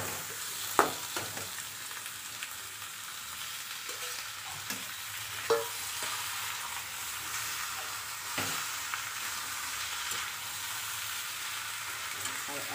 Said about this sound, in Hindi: अब हम इसे अच्छे से फ्राई कर रहे हैं।